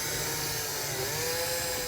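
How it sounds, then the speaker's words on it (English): A power drill runs continuously, drilling a hole during a trailer brake controller installation on a 2019 Jeep, a steady high motor whine with a slight pitch shift midway, moderately loud and without talk. "we'll remove that piece and drill it out to the correct size"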